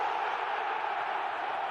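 A large stadium crowd roars after a Juventus goal against Bayern Munich in a 2016 Champions League match, a steady, dense wash of cheering holding at an even level throughout.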